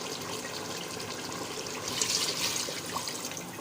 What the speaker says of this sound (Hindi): अब इसमें ऐड कर देंगे पानी।